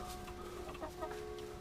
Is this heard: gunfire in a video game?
no